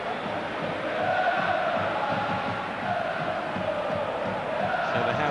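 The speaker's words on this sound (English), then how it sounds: "The vast majority of this huge crowd behind them." Huge football stadium crowd of AC Milan fans at the San Siro derby against Inter, a continuous distant roar of chanting and massed voices swelling gently without a break.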